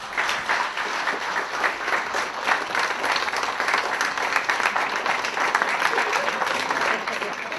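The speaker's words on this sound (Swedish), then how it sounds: "en stor applåd och ett varmt tack från djupet av våra hjärtan" Wedding guests applaud steadily in a reception hall, a dense, sustained crowd of clapping hands that holds at an even level throughout with no talk over it.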